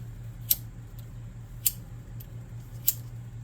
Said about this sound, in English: I'm going to snip off this excess.